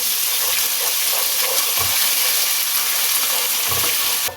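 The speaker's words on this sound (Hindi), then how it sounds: "इसमें हाफ टेबल स्पून लहसुन अदरक पेस्ट वो डाल दें और इसे उसके साथ भून लें।" Garlic ginger paste fries with browned onions in a pan for aloo matar, giving a loud, continuous close sizzle with a few low stirring thumps.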